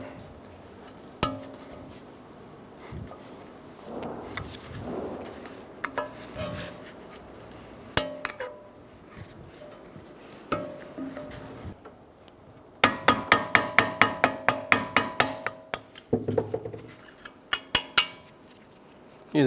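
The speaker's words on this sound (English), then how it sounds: "Using a small hammer, go around, continually tapping." Small hammer tapping repeatedly on a steel insert in a Toyota Camry front steering knuckle, with scattered metallic knocks early on, then a rapid, steady run of sharp clinking strikes, close and fairly loud.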